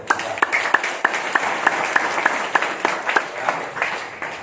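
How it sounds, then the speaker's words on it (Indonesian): An audience claps steadily for several seconds, a dense patter of many hands with a few sharper claps standing out. "Tepuk tangan untuk beliau."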